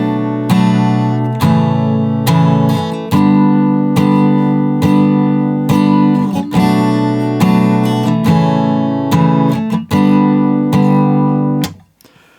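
Acoustic guitar plays the pre-chorus of a song, a steady sequence of strummed chords with evenly spaced attacks ringing loud and close, alone, before cutting off near the end.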